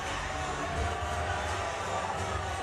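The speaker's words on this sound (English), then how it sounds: "you can hear the Chicago crowd, how amped up they are" A Chicago wrestling crowd roars steadily, a broad, continuous wash of cheering and noise held at a moderate, even level with no breaks.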